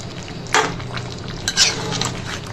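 Kala bhuna meat fries slowly in oil in a pot over low heat, a steady sizzle broken by a few loud, close scraping stirs of a utensil.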